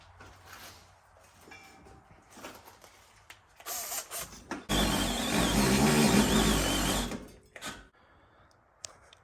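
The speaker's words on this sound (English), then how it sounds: "So we're just going to drill the hole bigger to fit the new bolts" A power drill whirs briefly, then bores steadily through metal, enlarging a bolt hole for a Brembo brake upgrade on a Honda Element, in a loud sustained grinding stretch before winding down, with clatter and handling noises around it.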